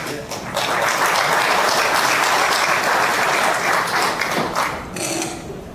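Audience applause at a memorial ceremony for Dr. Hulbert's 70th death anniversary, loud continuous clapping from a large crowd that swells and then tapers off near the end.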